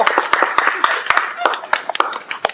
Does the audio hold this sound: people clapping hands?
yes